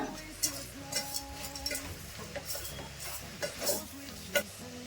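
Spoon scraping and clinking in a pot as spice powder, jaggery and salt are mixed into sambar, soft irregular stirring knocks at close range, quiet, no talk.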